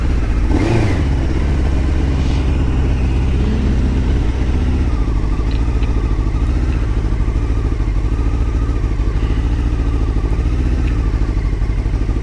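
A Honda CBR600 motorcycle engine drones loud and constant while riding over a potholed road, with a rattling clatter as the bike hits the bumps.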